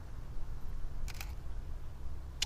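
A single-lens reflex camera fires during landscape photography outdoors, with two crisp shutter clicks about a second apart and a third near the end, close and sharp over low wind rumble.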